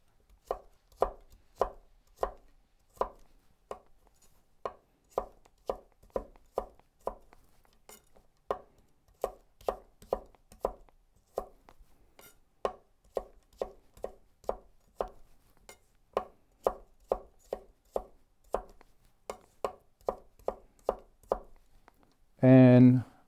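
Steady rapid chopping of vegetables into julienne strips with a Chinese cleaver on a cutting board, crisp knife strikes in quick rhythmic bursts with brief pauses, close and clear, ending in a short louder clatter.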